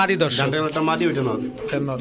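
A chocolate-coloured pigeon coos close by, in soft, throaty, rolling calls repeated in quick succession.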